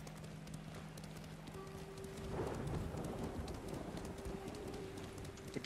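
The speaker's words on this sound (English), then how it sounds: "It's always raining in this game," Faint, steady rain patters in the video game Ghost of Tsushima, with soft clicks, a low tone, and a brief swell of rumble midway; no one speaks.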